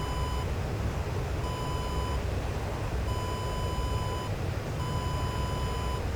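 Cockpit warning alarms in the DCS AJS-37 Viggen flight sim sound as four evenly spaced bursts of a steady electronic tone, repeating over a constant loud rumbling engine and airflow noise.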